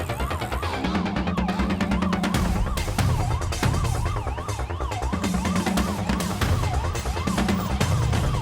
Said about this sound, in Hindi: ए, पुलिस का सायरन है।